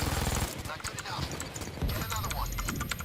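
Rapid gunfire in the Payday 2 heist game crackles in dense, repeated bursts close up, layered over game noise, with voices talking among the shots.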